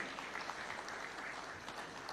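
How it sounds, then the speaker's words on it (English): Audience applause at a Taxpayers' Day awards ceremony at State House, Nairobi, a steady, distant-sounding wash of clapping hands held at a soft, even level for the whole short stretch. "Let's give them a warm clap as they receive these awards"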